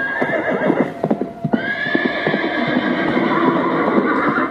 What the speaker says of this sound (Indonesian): Prabu kembali ke istana menggunakan kuda kesayangannya.